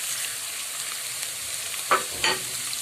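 Garlic frying and sizzling in a pan for a restaurant-style potato, pea and carrot curry, a soft steady hiss with a couple of brief stirring clinks near the end, no talking.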